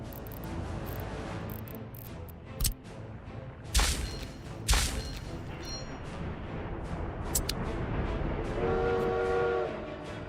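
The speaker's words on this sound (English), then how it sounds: "Maybe the trash trains don't need to wait here because it's driving me absolutely batshit." Trash trains unloading at a station in a city-building video game on flatland with hills, a steady rolling rumble of rail cars broken by sharp clanks and bursts of train horn or whistle, near and loud.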